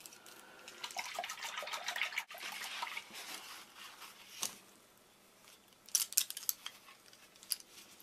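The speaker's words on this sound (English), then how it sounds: "So I'm going to swish them all in this bowl of water." Paintbrushes are swished through a bowl of water, giving bursts of close sloshing and splashing with small clinks against the bowl, then a quieter pause before scattered drips and light knocks.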